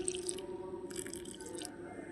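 Water trickling and dripping into a bowl of pakoda batter made with vadha narayanan greens, a thin steady pour with small splashy bursts, quiet and close.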